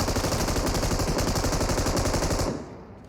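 Rapid automatic gunfire from a shooting video game rattles loud and close in a continuous burst for about two and a half seconds, then cuts off into a quieter tail.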